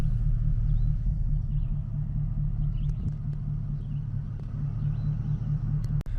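A car engine rumbles low and steady while the vehicle sits in traffic, a constant close-up drone with faint occasional clicks and no talking.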